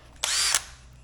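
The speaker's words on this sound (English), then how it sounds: "Spade drill." An old spade drill bit boring a 3/4 inch hole, a single loud, close whine lasting about a third of a second before cutting off abruptly.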